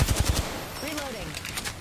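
Rapid bursts of gunfire from the Apex Legends video game rattle out in a quick volley at the start, followed by quieter game effects and fainter shots.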